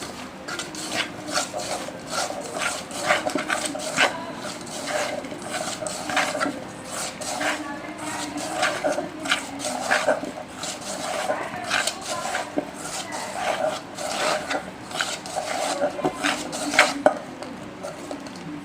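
Mushroom pieces being mixed by hand with squeezed lemon juice for a crispy mushroom fry starter, giving soft, irregular wet squelching and rubbing sounds that continue close up without speech.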